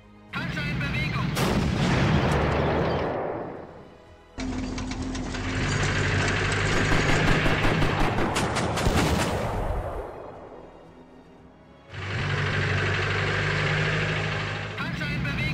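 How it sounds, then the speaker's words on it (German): Tank moving in the Panzer Corps World War II strategy game: a heavy engine rumble with bursts of loud artillery-like gunfire, rising and falling in three long surges, with voice lines in the game. "Panzer in Bewegung."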